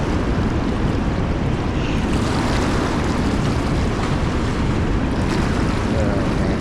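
Loud, constant rush of river water flowing below Center Hill Dam with the floodgates open, a broad roaring wash with wind buffeting the microphone, no talk.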